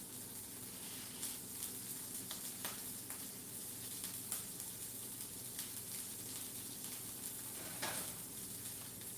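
Thin salmon fillet frying in a preheated hot stainless steel pan, a steady quiet sizzle with faint scattered crackles and pops, no talk.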